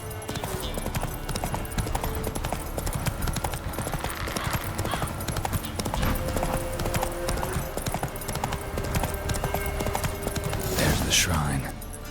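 Roach, a horse in The Witcher video game, trots with steady, close clip-clopping hooves throughout, joined by a voice talking over the hoofbeats and a brief brighter noise near the end.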